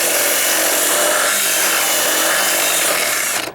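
A hand reamer widens a drilled hole in deck wood during dry rot deck repair, giving a continuous, close, raspy grinding scrape that runs steadily for about three and a half seconds, then stops abruptly.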